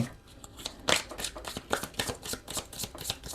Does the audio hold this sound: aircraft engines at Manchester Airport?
no